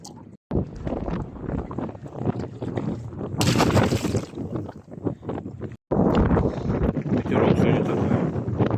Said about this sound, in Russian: Ветерок сегодня такой.